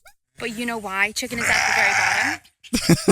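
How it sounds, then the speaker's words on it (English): A sheep bleats loudly and angrily in one long wavering cry, close by, between stretches of a person talking. "that sheep was mad"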